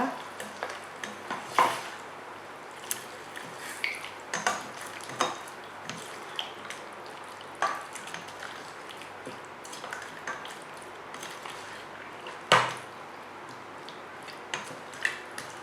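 Chettinad biryani masala being stirred in a pot: a low, steady sizzle under repeated light clinks and scrapes of a spoon against metal, moderately close, with no voices.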